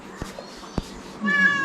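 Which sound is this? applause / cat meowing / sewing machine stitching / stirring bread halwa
cat meowing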